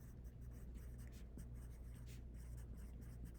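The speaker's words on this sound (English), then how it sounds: "So then I'm going to copy my story starter right here." A pencil moves across paper as a story starter is copied out by hand, giving faint, soft scratching strokes in short bursts over a low, steady room hum, with nobody talking.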